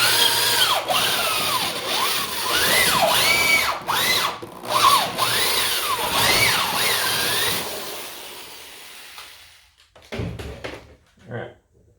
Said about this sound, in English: let's use that hole to drill through the frame of the board itself.